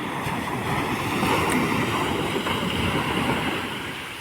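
Sea waves wash onto Calicut beach in a broad, continuous roar, with a steady rush of surf that swells slightly in the middle and eases toward the end, with no talk.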